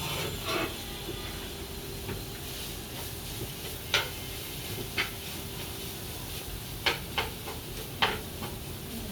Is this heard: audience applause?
no